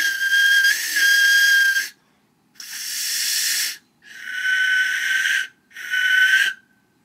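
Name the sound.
Codex-style Tezcatli Polka death whistle being blown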